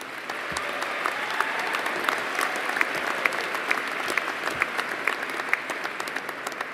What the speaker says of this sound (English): please hold your applause until all the graduates are recognized